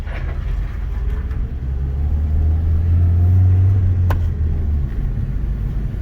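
A stock Nissan QG15DE engine runs with a deep, steady rumble that swells as it is revved up and then eases back, heard close with no talking.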